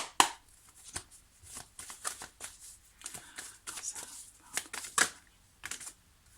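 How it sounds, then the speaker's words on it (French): Oracle cards for a tarot reading being shuffled and drawn, a run of quiet papery flicks and taps of uneven rhythm, close by, with no voices. "on va sortir quelques cartes avec l'oracle coup de cœur pour terminer ce tirage"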